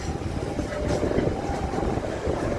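The KA Commuter Supas train rolls along the rails near Surabaya Kota station, a loud continuous rumble and rattle with wheel noise, heard from inside the carriage.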